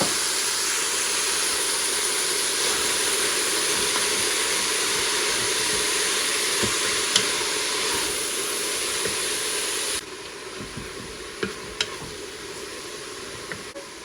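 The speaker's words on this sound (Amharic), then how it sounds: "እንደዚህ ካሮቱን እንጨምራለሁ አብረን እንጠብሰዋለን።" Onions and carrots frying in a little fat in a pot for an Ethiopian lamb and beef soup, a steady dense sizzle that holds loud and unbroken, then drops to a quieter hiss with a few faint clinks near the end.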